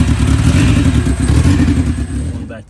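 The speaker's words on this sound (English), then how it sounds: "So car's running, exhaust is disconnected." An Acura RSX engine idles with its exhaust disconnected, giving a loud, raw, steady low rumble up close that continues without a break before cutting off abruptly at the end.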